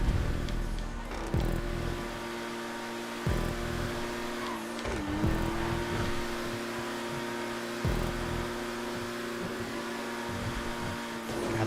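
A race car lapping a track in GTA 5, its steady engine drone holding close and continuous, with short bursts and gear-change dips breaking the note every couple of seconds.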